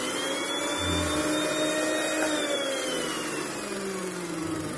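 A self-running free energy generator with a spinning rotor, powered by a Li-ion battery, hums continuously with a steady whine and motor drone, fairly loud and unchanging throughout.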